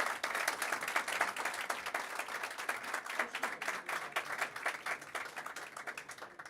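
Audience applause for conference panelists at a COP29 event, a steady, even clapping that holds throughout at moderate loudness with no voices over it.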